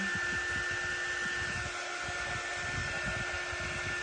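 A hair dryer blows steadily on a craft project made from a stocking, a continuous close, even whoosh with a constant motor whine running throughout and no talking.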